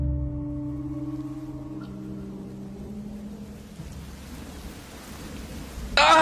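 Steady heavy rain hisses over a low rumbling hum that gradually dies away, with a sharp louder spatter of rain or impact breaking in at the very end.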